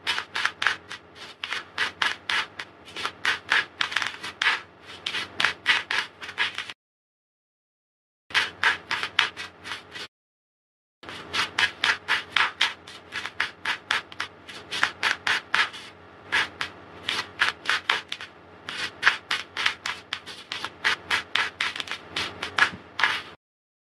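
Tarot cards are shuffled by hand in repeated brisk bursts of rubbing and riffling. The bursts are close and rhythmic, broken by two short silent pauses.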